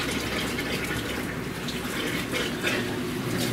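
Water runs steadily from open household faucets, flushing soldering flux out of newly installed copper supply lines, a continuous broadband rush at moderate level with no talk.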